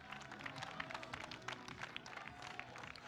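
An audience at a blind football (cécifoot) match, St. Pauli against Mälarhöjden at a 2023 French tournament, claps in a steady wash of applause while an announcer talks over it.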